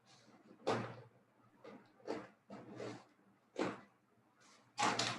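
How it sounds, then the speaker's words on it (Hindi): Several irregular knocks or bangs, like a door or cupboard thudding, spaced over a few seconds in a quiet room, moderately loud and fairly close. "अब खटखट आवाज नहीं जा रही है ना?"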